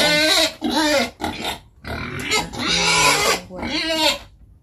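Wild boars, a male and a female, squeal and grunt loudly while asking for food, in several close, sharp bursts separated by short pauses.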